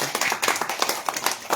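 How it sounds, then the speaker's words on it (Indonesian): A small crowd claps hands briskly in an uneven, quick rhythm for a brief moment. "tepuk tangan."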